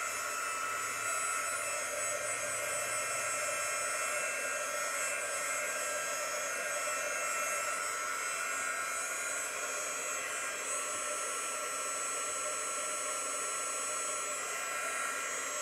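A hair dryer used as a heat tool blows steadily on ink over a chalk transfer carrier, a loud, constant whooshing hum that runs unbroken from start to end with no talking.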